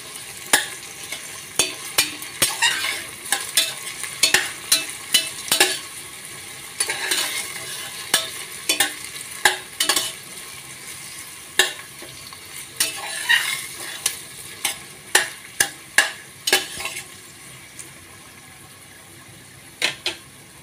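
Whole spices frying in hot oil for mutton dalcha with onion and tomato, a dense close sizzle broken by many sharp crackles and spatters at an irregular rhythm, without voices.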